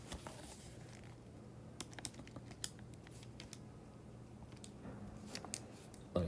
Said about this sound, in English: Let me type it.